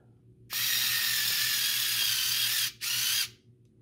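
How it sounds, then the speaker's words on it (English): Power driver whirring steadily as a screw goes into plastic tire rack parts, a loud continuous buzz lasting over two seconds, a brief stop, then a short final burst before winding down. "put a screw in"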